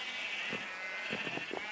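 Several faint, short sheep bleats come from a sheep farm in a video game, heard over a steady background hum.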